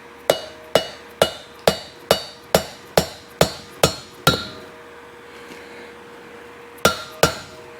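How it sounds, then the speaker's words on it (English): A hammer tapping an RV wheel bearing race into place, a run of nine sharp ringing metallic strikes at a steady rhythm, then a pause before two more taps, close and clear with no talk. "I'll just grab the first hammer I find."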